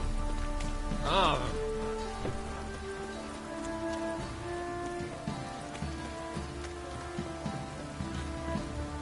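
Steady rain falls in The Witcher 3: Heart of Stone, a continuous patter under game music and ambient tones, with a brief vocal exclamation near the start.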